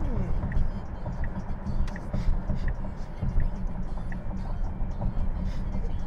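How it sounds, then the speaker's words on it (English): A Tesla Model S electric car accelerates past traffic, giving a steady low road and tyre rumble with faint whine, continuous and close throughout. "I'm gonna give it some little acceleration here"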